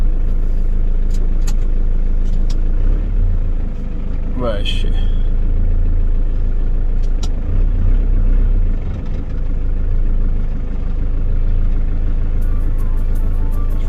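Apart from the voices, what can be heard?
van engine idling while warming up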